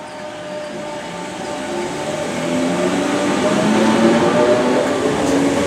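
A Merseyrail electric train pulls into Bromborough Rake station, a steady rail rumble and rising wheel hum building as it draws nearer and closes in alone, with no talk.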